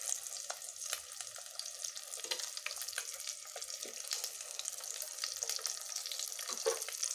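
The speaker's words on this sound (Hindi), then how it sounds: "देखिए फ्राई हो रहा है" Egg and cauliflower deep fry in hot oil seasoned with turmeric, a close, continuous crackling sizzle with scattered sharp pops and spits running the whole time.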